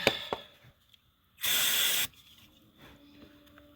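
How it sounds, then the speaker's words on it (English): WD-40 lubricant sprayed into a mechanism gives a single short, loud hissing burst lasting under a second, set against a quiet background with faint scattered clicks. "we give it a good old dose of the good old faithful WD-40"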